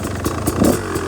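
A 2025 Beta 300 RX two-stroke motocross bike engine idling with a rapid, crackling putter, loud and close, steady with slight surges, no voices.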